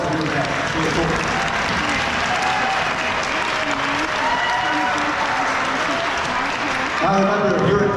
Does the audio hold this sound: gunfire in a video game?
no